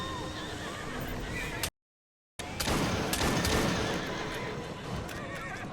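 Horses whinny and hooves clip-clop in Assassin's Creed Syndicate, a loud neigh over continuous hoofbeats, broken by a short silent gap before more galloping and rumbling resume.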